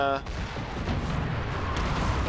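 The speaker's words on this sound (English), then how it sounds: "artillery just open up a fierce bombardment going right through here towards Napoleon" Dense, continuous rumbling booms of enemy artillery bombardment in a Napoleonic-era strategy battle game, a heavy roaring barrage filling the whole stretch without clear gaps.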